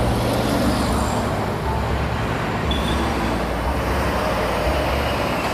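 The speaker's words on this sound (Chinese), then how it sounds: "这里确实很多车子的声音。" Road traffic with passing cars and trucks makes a continuous, fairly loud roadway drone with rumbling low end. It stays steady throughout, with no voices.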